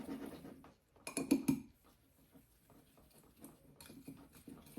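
A spoon scrapes and clinks against a bowl as one cup of brown sugar is stirred with three teaspoons of cinnamon, giving close, uneven bursts of gritty scraping with a clattery peak in between.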